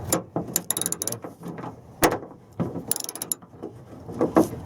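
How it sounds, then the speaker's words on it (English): A socket wrench with a 10mm socket loosens a bolt on a Toyota Sienna sliding door handle, its ratchet clicking in rapid, uneven runs close up, with no talking. "we're going to take our socket wrench with a 10mm socket, and we're going to loosen it up"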